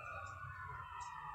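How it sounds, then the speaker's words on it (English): Emergency vehicle sirens wailing faintly outside, a steady rising and falling tone from a distance, partly behind indoor room noise. "sorry about all those sirens."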